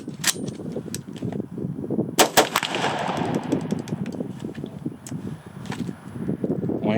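An M+M M10X gas-powered airsoft gun fires a fast string of sharp, snappy cracks, some louder bursts standing out among quicker rattling shots, close and fairly loud throughout.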